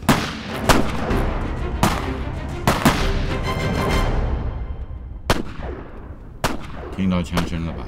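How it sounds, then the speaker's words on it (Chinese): Gunfire rings out in a dramatised scene, a string of sharp, loud shots with echoing tails, several close together at the start and a few more spaced later, with voices briefly audible near the end. "听到枪声了吧？"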